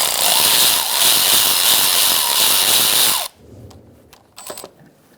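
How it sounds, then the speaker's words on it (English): A power tool whirs loudly and steadily for about three seconds, loosening a bolt with a 10mm socket while replacing the crankshaft position sensor on a 2010-2013 Kia Soul 2.0L, then stops, leaving a few light clicks and taps. "You're going to use a 10mm socket. And you are going to loosen the bolt."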